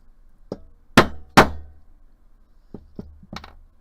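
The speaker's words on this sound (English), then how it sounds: "I'm going to whack the crap out of it with my hammer" Metal hammer blows on a steel disc cutter punching tiny earring discs: two loud sharp strikes close together, then several lighter taps, near and alone with no talk.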